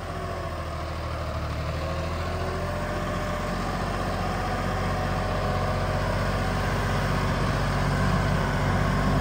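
A tractor engine runs steadily in second gear, a continuous low rumble with a broad noisy wash that holds at a constant loud level and close range throughout, with no voices.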